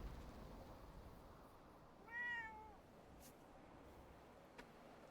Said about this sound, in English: Either there are cats in this room or I'm going crazy.